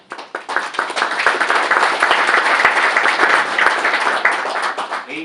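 A crowd at a city's State of the City address breaks into sustained applause, dense steady clapping that swells quickly and holds loud before tapering slightly, with no speech over it.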